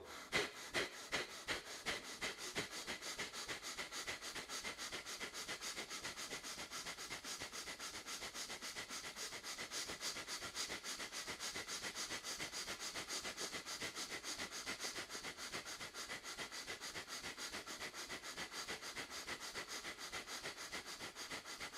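Rhythmic sniffing inhalations and exhalations from a dynamic breathing practice with abdominal vacuum, repeating steadily and close up for the whole stretch with no talking.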